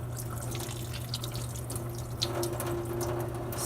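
Running water rinses soap out of paintbrushes at a sink, a steady close faucet stream with small splashes and drips and no voices.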